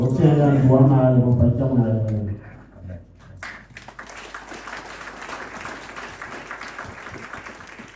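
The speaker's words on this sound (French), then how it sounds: "Si ces acclamations sont pour l'ancien Issa et L'ancien Isaïe, je suis d'accord." A voice speaks at first, then after a pause a church congregation bursts into sustained applause and cheering that carries on to the end.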